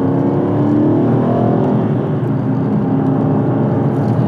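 An Aston Martin V8 Vantage S fitted with a Quicksilver exhaust drones loudly and steadily from inside the car, a deep V8 rumble whose pitch rises and settles slightly as it pulls.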